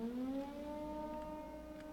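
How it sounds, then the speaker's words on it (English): A wailing siren in a horror video game rises and holds a steady, droning pitch, heard alone at moderate volume for a couple of seconds. "Is that a siren?"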